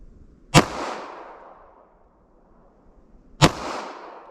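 Two sharp, loud gunshots from a 9mm +P 135-grain pistol with a 5-inch barrel ring out about three seconds apart, each followed by a decaying echo in otherwise quiet surroundings.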